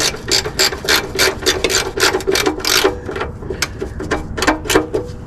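A ratchet wrench clicks in rapid bursts while tightening a nut on a screw, close and crisp, with brief pauses between the strokes.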